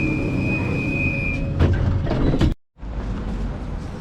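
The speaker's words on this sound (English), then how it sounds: "just catching the tram now." A Prague tram rumbles steadily with a high whine and some mechanical clanks, then briefly cuts out before the rolling noise resumes.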